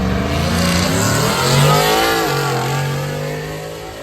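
A Ford F-150 and a Buick accelerating hard side by side down a drag strip at Brainerd Motorsports Park, a loud continuous engine roar with rising revs that swells midway then eases off.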